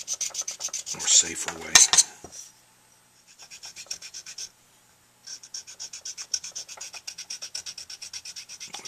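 A hand file rasps against a metal tenor saxophone mouthpiece in repeated close strokes, a short burst of scraping followed by a pause and then a steady run of rhythmic rasping, with a brief spoken remark early on.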